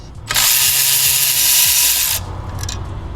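A power tool loosens a brake caliper bracket bolt on an MK8 Golf R with a single loud, close, sustained whirring burst of about two seconds, followed by a brief quieter rattle.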